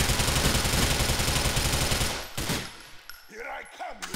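Sustained rapid automatic gunfire from the GTA IV video game, loud and dense for about two seconds before cutting off into scattered echoing shots and game ambience.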